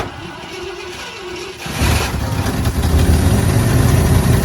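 A Ford F-100 engine that sat unused for years idles roughly and choking, then surges into a louder, denser rumble partway through, close and loud.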